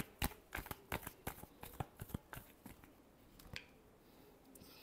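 Tarot cards are shuffled by hand close up, giving a quiet run of quick crisp snaps and riffles in an uneven rhythm that fades toward a soft finish, with no voices.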